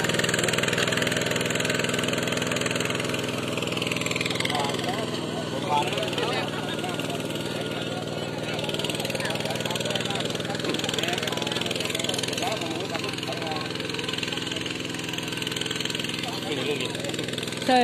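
A small homemade two-wheel walking tractor engine runs steadily throughout, a continuous close mechanical drone with some voices talking over it.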